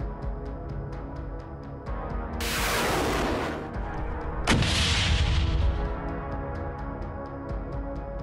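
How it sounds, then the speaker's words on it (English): Ukrainian cannons of a mechanized brigade fire on BM-21 Grad rocket systems, two heavy booms with rumbling tails a couple of seconds apart, over steady mechanical background noise, no voices. "Video footage shows cannons of the 110th Separate Mechanized Brigade of the Ukrainian Armed Forces destroying 5 BM-21 Grad rocket salvo systems"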